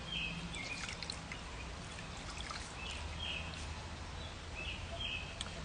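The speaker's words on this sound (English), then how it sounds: "I'm going to rinse my hands." Running water from a tap streams steadily over hands being rinsed during an evening skincare routine, a continuous close splashing wash with faint high chirps above it and no talking.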